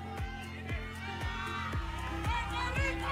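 Audience cheering at the Universal Woman pageant final night in Cambodia, a sustained crowd roar with whoops under loud rhythmic music carrying a steady thumping beat.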